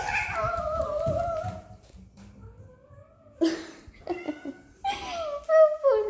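A Russian cat meows close by, several drawn-out, pitch-bending cries with pauses between them, and a voice is heard faintly alongside.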